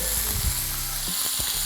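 Chopped meat sizzling in hot oil in a pan while cooking chorrillana, a steady loud hiss and crackle throughout with occasional stirring knocks.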